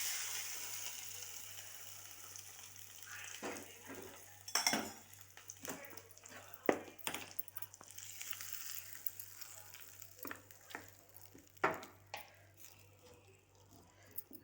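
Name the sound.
mixing ivy gourd tomato chutney in a large vessel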